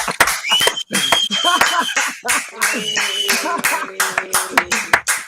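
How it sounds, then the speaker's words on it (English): An audience applauds to welcome a guest onto a talk show, with dense, uneven clapping running throughout and voices and tonal sounds mixed in. "round of applause"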